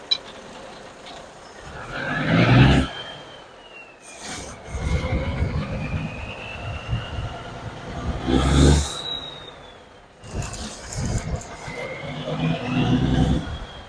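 An International Harvester 4070B Transtar 2 truck engine revs up several times, each surge rising in pitch and then falling back toward idle, loud and close, with brief talk in between.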